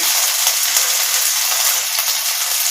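Spices with ginger-garlic paste, green chilli, turmeric, chilli powder and black pepper powder fry in oil in a pan, giving a steady close sizzle with faint stirring scrapes throughout and no talk.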